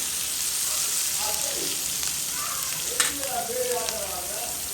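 Onions and curry leaves fry in a pan for a Tamil crab curry, giving a steady soft sizzle with faint stirring scrapes, the moderate hiss continuing without pause while rain falls outside.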